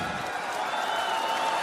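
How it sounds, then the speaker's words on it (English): A wrestling arena crowd responding to a promo, a steady roar of many voices with scattered applause and cheering, distant and sustained with no pauses. "What a congenial crowd response."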